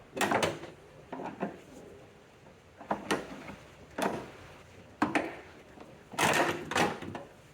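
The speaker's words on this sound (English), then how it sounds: "now I'm just using a little pry bar here to pop the bottom one off" A little pry bar pops the lower hood lift strut off a 2002+ Mini Cooper (R56), giving a few sharp metallic clicks and knocks spaced over several seconds, close and fairly loud with quiet gaps between.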